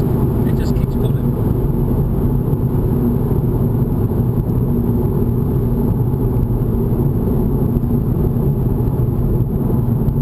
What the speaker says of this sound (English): Third gear pull. Join the red line.